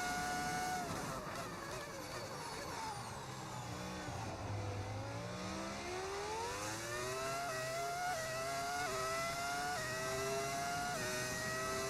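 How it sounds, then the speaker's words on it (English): A modded car engine in the F1 25 racing game revs and drops through the gears, its whining note sliding down under braking and then climbing in repeated upshifts, loud and steady throughout with no talk. "I can have that engine sound. I use a mod"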